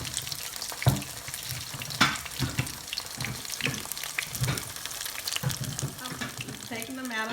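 Slices of green tomato and tatume squash fry in a skillet, giving a constant close sizzle broken by scattered clicks and scrapes of turning.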